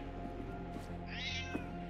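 A cat in the puzzle video game Lightmatter gives a single clear meow near the end. The meow sits over a steady, droning game soundtrack with faint thuds.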